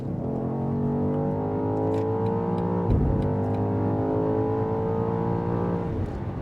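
A 2023 BMW XM accelerating hard on the autobahn, heard from inside the cabin as a loud, steady engine drone that rises in pitch through a gear change around the middle, with road rumble underneath.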